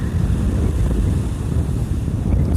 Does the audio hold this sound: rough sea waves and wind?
yes